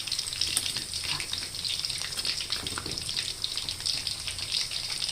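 Pork belly, boiled in fish sauce, deep-fries in hot oil with a steady, dense sizzle and bubbling hiss, close and moderately loud without talk.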